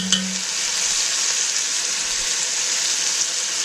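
Minced garlic for a Tuscan soup sizzles steadily in a hot pan, a close, even crackle with a brief low thump at the start and no talking.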